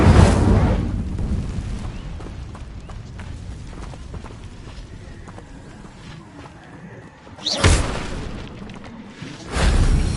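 Incendio fire spell cast in the Hogwarts Legacy video game, two sharp whooshing bursts of flame standing out over a rumbling game soundscape, one near the middle and another near the end.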